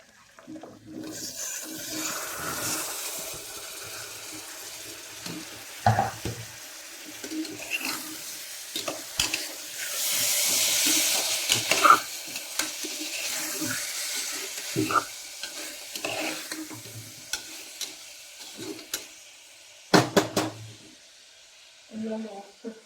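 Chopped tomatoes go into a frying pan for egg biryani and sizzle as they are stirred, with spoon scrapes and knocks against the pan and some talk in between.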